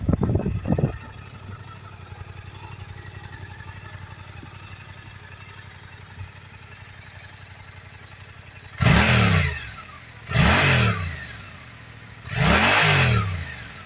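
A Suzuki GSX-8S motorcycle with its factory exhaust idles low and quiet, then gives three sharp throttle blips, each rising quickly and dropping back to idle, close to the listener.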